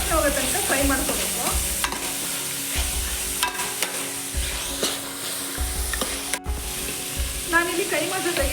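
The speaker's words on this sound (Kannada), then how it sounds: "ಸ್ವಲ್ಪ ಹಸಿ ವಾಸನೆ ಹೋಗೋ ತನಕ ಫ್ರೈ ಮಾಡ್ಕೋಬೇಕು." Keema mince frying in a pan, with a spoon stirring and scraping in regular strokes over a loud, close sizzle, and a faint voice briefly in the background.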